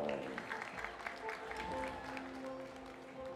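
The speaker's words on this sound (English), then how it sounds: "Ladies and gentlemen, a round of applause one more time for Naspor." Applause and crowd noise fill an awards-show hall at the Trendupp Awards, with steady, moderately distant clapping and music or PA tones mixed underneath.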